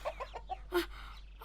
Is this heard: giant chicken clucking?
yes